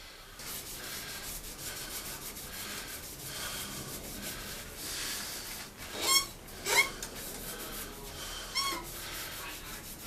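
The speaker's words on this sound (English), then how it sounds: "Give it a bit of a finish with some shellac sanding sealer and some friction polish" Shellac sanding sealer and friction polish are rubbed onto turned ash wood, giving a soft continuous rubbing hiss with a few sharper squeaky swipes near the end, quiet and close.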